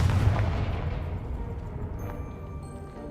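A Confringo fire spell blasts in Hogwarts Legacy, a deep rumbling boom that swells at the start and then rolls into a long, fading roar with no voices over it.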